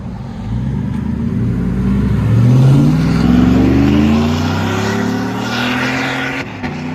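A 2015 GMC Sierra All Terrain 5.3L V8 with Carven R-Series dual exhaust and an exhaust leak revs up with a deep, throaty roar, rising in pitch and holding steady, heard up close with no talking.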